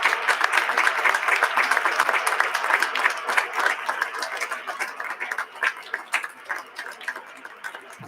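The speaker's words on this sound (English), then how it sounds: "let us congratulate the heroes of today's Blessing Festival with a celebratory round of applause" Celebratory applause at a Holy Blessing Ceremony, a large crowd clapping in a dense, sustained wash that swells early and slowly thins toward the end, with no voices over it.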